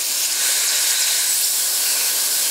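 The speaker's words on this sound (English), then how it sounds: "I'm going to blow some compressed air over it and you'll see it." Compressed air is blown over the fuel tube of a Weber DCOE carburettor, making a loud, steady, close hiss that runs unbroken throughout.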